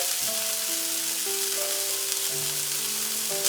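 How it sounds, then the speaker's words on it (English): Mushroom stuffing with salt, Italian seasoning and black pepper sautés in a pan, giving a steady, continuous sizzle that holds close and even throughout, with faint tonal sounds in the background. "I'll saute it for a couple of more minutes"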